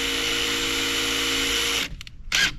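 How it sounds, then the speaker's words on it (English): An electric drill drives a screw into a wooden board for a chicken coop, holding a steady high whine for almost two seconds, then stopping and giving two short reversing bursts close by. "sink the screw just a little bit, get it going, and then reverse your drill"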